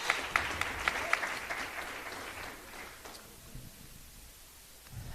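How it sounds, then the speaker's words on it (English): An audience at a leadership summit applauds, a moderate patter of clapping that fades out after a few seconds into quiet room noise. "Please give him a round of applause."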